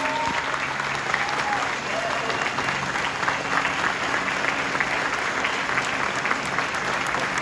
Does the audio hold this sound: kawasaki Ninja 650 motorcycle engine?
no